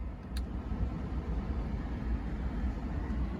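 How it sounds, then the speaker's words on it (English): Air conditioning blowing inside a 2002 Honda S2000: steady broadband rushing airflow, fairly loud and even, with no talk. "Let's turn on the AC because it's getting hot out here."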